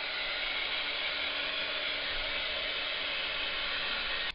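Heat tool blowing hot air to dry ink on cardstock, a steady loud hairdryer-like whoosh close by, running continuously and cutting off at the very end.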